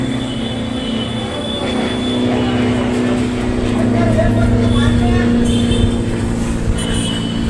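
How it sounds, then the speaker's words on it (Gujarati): A steady airplane drone passes overhead above a rooftop terrace in Bhavnagar, loud and continuous with a low hum, while people talk over it. "જો વિમાન જાય."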